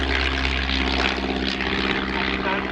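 A propeller aircraft flies in at the Shuttleworth evening air display in 2007, its engine a loud, steady droning hum throughout with a constant throbbing tone.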